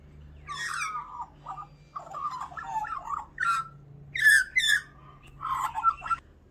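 A young magpie chatters in short harsh bursts near a backyard clothesline, with several rasping calls and squawks spaced over a few seconds against a faint low hum.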